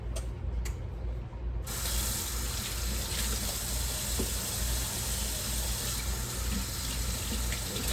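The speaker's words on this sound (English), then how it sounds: "I'm just gonna rinse my hands here with the eggs." Tap water runs steadily into a kitchen sink as hands are rinsed after cracking eggs, a continuous close hiss and splash lasting throughout, with a brief quieter moment at the very start.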